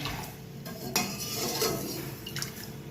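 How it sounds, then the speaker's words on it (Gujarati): A spoon scrapes and clinks against a pot while muskmelon milk is stirred over low heat on a stove, making soft continuous stirring with a few sharper metallic taps, close by and without talk. "હવે આપણે એને ધીમા તાપે હલાવશું ને ગરમ કરશું"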